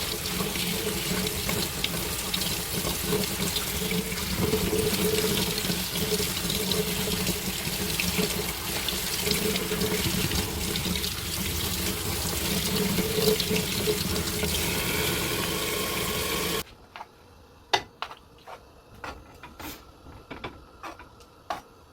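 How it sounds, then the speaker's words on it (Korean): Cold tap water runs steadily into a sink over prepared salad vegetables being washed, a loud continuous splash for most of the stretch before it stops and a few sharp clinks and knocks follow. "찬물에 손질된 야채를 씻어줄게요."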